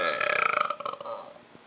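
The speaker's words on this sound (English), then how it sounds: "Now you're the one with the burps." A drawn-out, bubbly burp from a person, loud and close, rattling for about a second before trailing off, with no talking over it.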